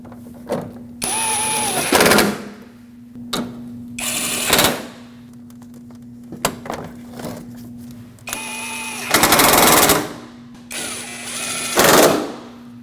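A power tool drives in headlight bolts on a 2010-2015 Lexus RX350 in several loud bursts of a second or so each, with a whining motor and rattling impacts, close up, separated by quieter pauses.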